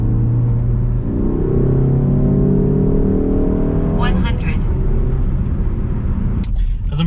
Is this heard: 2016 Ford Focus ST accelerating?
yes